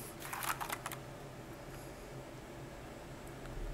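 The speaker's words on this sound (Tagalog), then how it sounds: "Ganyan yung tunog usually ng mga Otemo na switches." Sixty-percent mechanical keyboard fitted with Outemu switches, typed in a quick short burst of clacky keystrokes that stops after about a second, leaving low background hiss.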